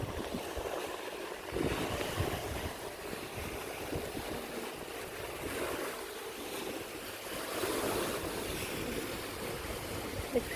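Sea waves wash below a cliff top at Bayawan city, a steady low roar of surf mixed with wind buffeting the microphone, fairly faint and continuous, with no talk.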